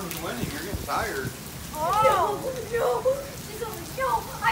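Heavy monsoon rain falls in a steady hiss throughout while several people talk and shout excitedly over it.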